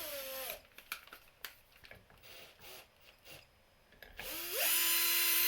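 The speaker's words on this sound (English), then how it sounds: "And I could even use my drill to spin that." A power drill on a low clutch setting spins a bass guitar tuning machine in short whirring bursts, then runs continuously at a steady high pitch, with scraping between the pulses.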